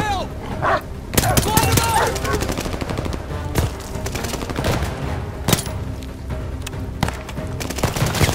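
In the World War II shooter Call of Duty: Vanguard, rapid bursts of gunfire crack over a steady battle din while a dog barks and yelps amid the shots, with a voice briefly heard.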